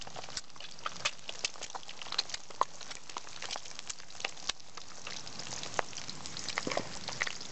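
Eggs and bacon fry in a pan at a spring camp. A steady, dense hiss of fat runs throughout, dotted with sharp little spits and pops, close and even with no voices.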